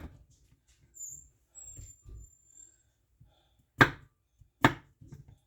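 A knife chops dill pickles into pieces on a cutting board. Two sharp, distinct chops stand out amid quiet shuffling and soft breathing-like noises.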